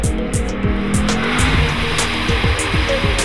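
Lexus IS F with a 5-litre V8 and 8-speed gearbox, revving hard through rapid rising and dropping engine notes with quick gear changes, loud and close, no talking.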